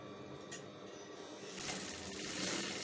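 A sewing machine stitches fabric in a basic seam, running as a close, steady mechanical whir with a rapid needle patter that grows slightly louder and busier toward the end.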